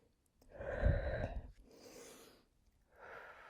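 Slow, deliberate breaths during a posture exercise, a long audible inhale followed by a softer exhale and another breath, close and alone.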